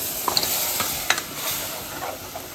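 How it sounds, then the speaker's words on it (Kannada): Ginger garlic paste frying in a pan as it is stirred for kheema unde: a soft, steady sizzle with a few light scrapes and clicks of the spoon, fairly quiet and without talk. "ಸೊ ಅದಕ್ಕಂತ ಚಲೋ ಫ್ರೈ ಮಾಡ್ಕೋಬೇಕು"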